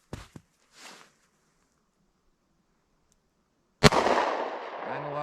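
A .38 Special snub-nose pistol fires one sharp, loud shot outdoors, followed by a decaying roar, after a few faint clicks and a soft rustle.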